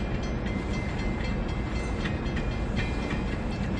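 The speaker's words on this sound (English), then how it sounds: "there's the end of the train" A freight train rolls past close by, ending with its last cars, a loud continuous rumbling roar of wheels on rails with faint rhythmic clatter, no voices over it.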